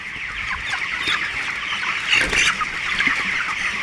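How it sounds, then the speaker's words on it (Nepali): Chickens clucking close by in a farm coop, a steady chorus of soft clucks with a louder burst partway through and possible wing flutter. "कुखुराको हालत यस्तो छ गाइज हो, हेर्नु होला"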